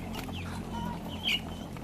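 Chickens on a farm cluck softly and intermittently over a steady low background hum, with one brief, sharper cluck standing out near the end.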